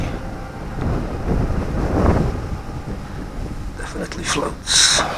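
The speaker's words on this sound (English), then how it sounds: "It's windy." Gusty wind buffets the microphone outdoors over water during a float test of a water-modified Parrot Bebop drone, rumbling steadily throughout, with brief splashy bursts near the end.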